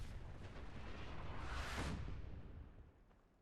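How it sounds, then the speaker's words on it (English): Artillery fire in the video game Fallout 4 builds into a rumbling, broadband blast that peaks mid-clip and then fades away. The sound is fairly faint overall, with no talking. "artillery works"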